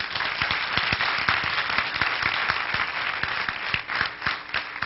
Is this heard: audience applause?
yes